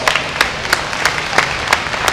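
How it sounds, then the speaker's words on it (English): At a heifer showmanship show, a crowd applauds a young exhibitor, with sharp, fairly regular individual claps standing out above a softer wash of clapping. "Let's give her a round of applause."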